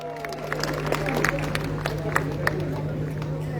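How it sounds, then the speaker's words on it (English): A festival crowd applauds and cheers junior category participants at a competition, steady dense clapping and chatter with a constant hum underneath. "can we have a big thunderous round of applause?"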